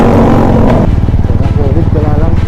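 A motorcycle riding home through floodwater after a typhoon, its engine a loud, close, throbbing drone with a pulsing rhythm that shifts pitch partway through.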